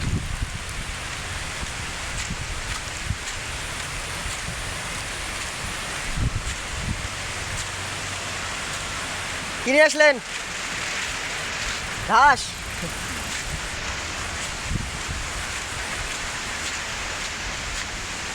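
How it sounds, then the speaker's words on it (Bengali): Steady outdoor rain falls in a constant broadband hiss, with wind and rustling around, and brief voices break in twice over the downpour. "অনেক দিন পর বৃষ্টি ভিজতেছি"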